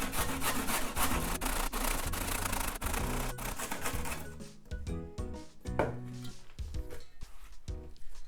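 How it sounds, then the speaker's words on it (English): Daikon radish rubbed against a hand grater in a home kitchen, a fast, steady scraping that runs dense and loud for several seconds, then breaks into separate rasping strokes. "I'm just gonna be lazy and use this grater. And also the daikon radish."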